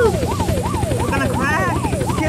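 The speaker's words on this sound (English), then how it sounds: "Get in the helicopter." A helicopter in the video game Unturned drones with a steady rotor and engine roar that runs loud and continuous throughout, with a voice speaking over it.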